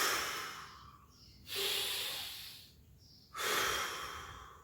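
Two long, breathy exhales alternate with quieter pauses during a transverse abdominal floor workout, each breath soft, close and unvoiced, with no talking.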